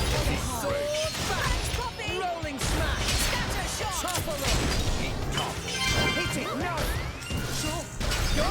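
Missile launcher attack in the video game Xenoblade Chronicles 2, a busy run of crashing, thwacking impacts and whooshes with game music and voices layered over the battle.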